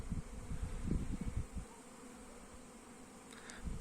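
Honey bee colonies fly out of their hives on a winter cleansing flight, a low steady buzzing hum, fairly quiet and heavier in the first moments, with no talking.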